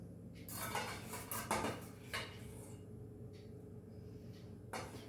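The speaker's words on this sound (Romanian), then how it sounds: "Și acum încerc să adaug puțină maioneză." A spoon clinks and scrapes in a bowl as mayonnaise is stirred into a fish kofte mixture, a cluster of bright metallic taps early on, then quieter occasional knocks in a home kitchen.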